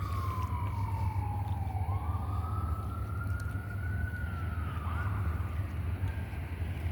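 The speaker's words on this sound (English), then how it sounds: "I hear the police sirens like crazy" Police sirens wail continuously on a city street, a single rising and falling tone carrying steadily over heavy low traffic rumble, moderately distant and loud throughout.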